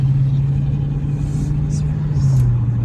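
A Dodge SRT 392 engine drones steadily while driving, a deep constant rumble that holds through the whole stretch and dips slightly in pitch near the end, with no talk over it.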